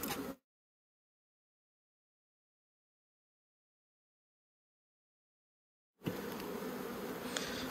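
Honeybees buzz loudly around open hives during spring colony splitting, a dense steady hum heard briefly at the start and again near the end, with a silent gap between.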